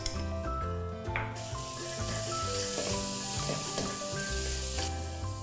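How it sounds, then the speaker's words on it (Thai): Garlic sizzles and crackles in hot oil in a wok, a steady frying hiss with soft music playing underneath. "ใส่กระเทียมลงไปเจียวให้หอมนะคะ"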